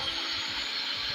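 A DC electric drill running on solar or battery power gives off a steady, continuous motor whine that holds an even level throughout, with no voices.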